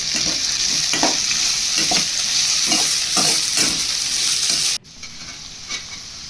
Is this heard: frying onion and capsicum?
yes